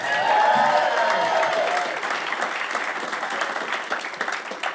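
An audience at a stand-up comedy show in Tucson claps loudly, the applause peaking early and then thinning slightly, with a few voices faintly under the clapping.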